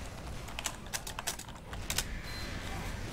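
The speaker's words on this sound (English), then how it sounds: "I didn't really want to spend that much effort typing it" Quick clicking keystrokes on a computer keyboard during a Team Fortress 2 Soldier match, a few light bursts of taps over steady faint game background noise.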